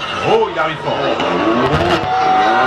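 A rally car's engine roars loudly as it races closer at speed on a special stage of the Rallye des Grands Fonds, with a commentator talking excitedly over the noise.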